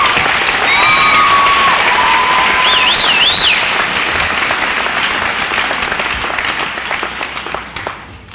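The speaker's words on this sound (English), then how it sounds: "I'd like to give them all another round of applause." A graduation ceremony audience breaks into sustained applause, loud and dense throughout, with a few whistles rising over the clapping before it thins out near the end.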